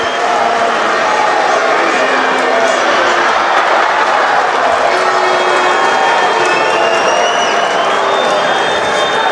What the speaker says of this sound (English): Crowd are up for it,